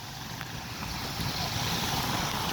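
Rain falling on a street in Saddar, Karachi, a loud, dense, steady hiss heard close with some wind rumble throughout and no voices.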